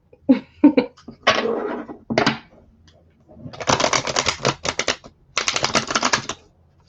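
A tarot-style deck of oversized cards handled and shuffled by small hands, close, crisp bursts of riffling and flapping paper in irregular clusters with brief pauses between them.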